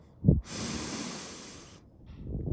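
During a guided breathing exercise, a person takes one deep inhale: a short sharp sniff, then a long steady airy intake held for over a second, close to the microphone.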